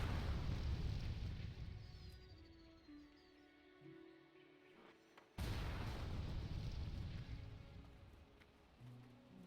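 Fireworks launcher shots and explosions in World of Warcraft: booming blasts with heavy low rumble that fades, followed by a second sudden explosion midway that swells and decays.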